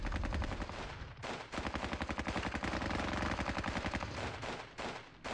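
Rapid machine gun fire pours onto trenches in the Squad Battles Red Victory war game at Ponyri, long rhythmic bursts of evenly spaced shots with brief breaks, loud and sustained.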